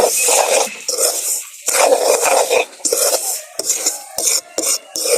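Beaten egg being stirred in a pan in a village kitchen, repeated close, loud scraping strokes of a spoon against metal in uneven bursts with short pauses between.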